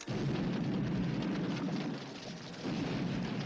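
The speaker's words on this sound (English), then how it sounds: "That's explosion." Film explosion from the 1983 James Bond movie Never Say Never Again: a dense, sustained low rumble and roar that stays loud throughout, dipping briefly before swelling again, with no speech.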